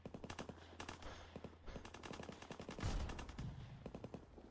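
Rapid bursts of gunfire in the video game Call of Duty WWII as players shoot at decoy barrels in prop hunt, quick repeated cracks over a busy game soundscape.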